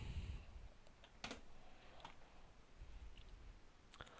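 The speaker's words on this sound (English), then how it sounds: "we'll just type in belt buckle" Quiet, sparse taps on a computer keyboard while typing a search phrase, a handful of separate clicks spread out over a few seconds, close with no talk.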